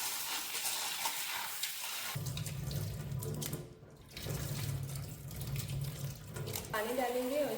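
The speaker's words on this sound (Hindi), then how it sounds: "तो चलिए इसे भी हम अच्छे से धो लेते हैं।" Tap water runs steadily into a sink while an ingredient for Rajasthani panchkuta, a traditional Sheetala Ashtami dish, is washed, with splashing and stirring in the water and a brief lull partway through.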